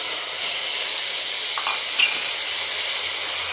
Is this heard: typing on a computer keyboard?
no